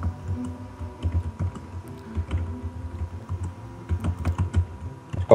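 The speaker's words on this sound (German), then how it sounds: "wie laut man hört, dass du die Tastatur am Drücken bist" A computer keyboard is pressed loudly during an online Tetris game, with rapid irregular key clacks and bursts of typing, close and clear and without talk.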